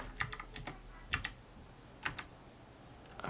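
Typing on a computer keyboard: short bursts of two or three quick clicks spaced about a second apart, close and quiet, with no talk.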